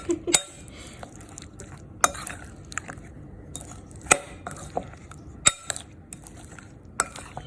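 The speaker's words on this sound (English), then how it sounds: "So first I'm going to mix this up. Nicely toss it" Sliced beetroot tossed in marinade in a bowl, heard as wet mixing and soft sloshing punctuated by several sharp clinks of a utensil against the bowl at irregular intervals, close by with no voices.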